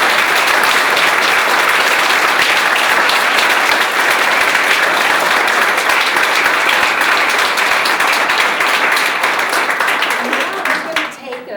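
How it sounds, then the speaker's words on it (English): Applause for students at a city council meeting: sustained, dense clapping from a crowd of people in a meeting room, holding steady throughout before tapering off with a few scattered claps and murmurs at the end. "So a big round of applause for all of you."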